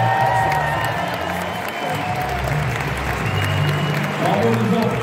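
Loud, sustained applause from a premiere crowd for a rapper at a Transformers: Rise of the Beasts screening, steady clapping with cheers and background voices and music throughout, swelling again near the end.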